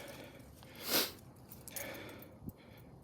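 A dog on a night walk gives a couple of short, close sniffs, one sharp burst of air followed by fainter snuffling and a small thump, with no talking.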